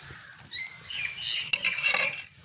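A lid is set onto an appam pan cooking on a village hearth: soft metallic rattles build to a sharp clank as it lands, followed by light clatter. The sounds are close and moderately quiet, with no speech.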